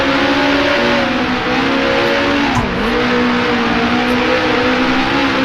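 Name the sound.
1966 race car engine revving in Grand Prix Legends video game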